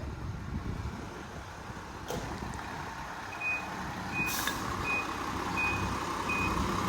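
Nissan UD FE ten-wheel truck reversing outdoors, its backup alarm giving a steady series of evenly spaced high beeps over the low rumble of the idling diesel engine, with a brief hiss partway through.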